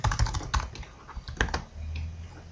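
Someone types on a Belgian-layout computer keyboard while coding, producing a close, irregular run of sharp key clicks and clacks with brief pauses and no talking.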